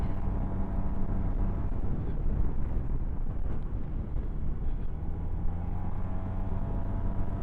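A SYM Maxsym 508TL scooter accelerates on a damp road, its engine droning steadily under heavy rushing wind noise, close and continuous throughout.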